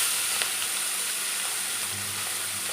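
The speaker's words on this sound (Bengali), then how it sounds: "এখন এই যে মাছটা তেলের উপর ছাড়া হয়ে গেছে" Fish rubbed with salt and turmeric sizzles steadily in hot oil for a Bengali mixed-fish curry, a continuous broadband hiss with faint crackles and a low hum beneath, no talking.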